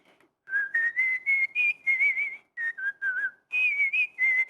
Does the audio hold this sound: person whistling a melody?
yes